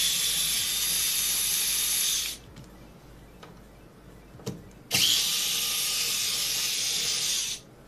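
A power screwdriver backing screws out of a Madcatz fight stick to free its JLF joystick: two long steady whirring runs, separated by a quiet gap holding a few small clicks and a knock.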